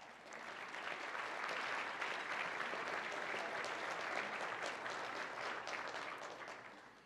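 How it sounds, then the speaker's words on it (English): An audience at a City Club civic forum gives a steady, full round of applause that holds at an even level throughout and tapers only slightly at the very end. "Please join me in a warm round of applause for all of them."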